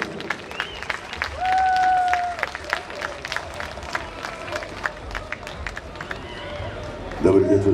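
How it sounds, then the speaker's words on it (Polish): Audience at a Przemyśl pipe festival applauding to welcome a band, a steady crowd clapping wash with a whistle and livelier cheering near the end. "Gromkie brawa, przywitajmy artystów!"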